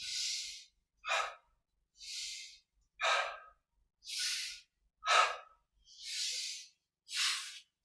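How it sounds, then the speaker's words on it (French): Slow, deep breaths during a yoga and meditation session, eight distinct inhales and exhales alternating in a steady rhythm, close and clear with no talking between them. "Inspire ici, expire."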